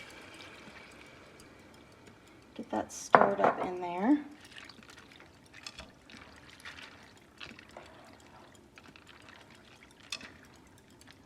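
Water pours briefly into a cooking pot for beef bouillon broth, a short splashing gush followed by faint clinks, with a person talking quietly afterward.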